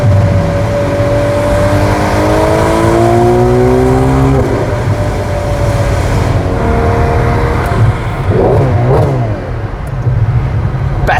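A Ferrari 12Cilindri V12 revs hard on a de-restricted Autobahn, the loud engine note climbing through repeated rising sweeps, then easing off and rising again, heard from inside the car without talk.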